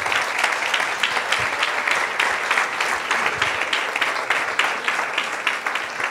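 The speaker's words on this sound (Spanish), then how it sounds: "Dale fuerte ese aplauso al rey." A Spanish-speaking church congregation claps loudly and steadily during a service, a dense, continuous burst of applause with distinct individual claps throughout.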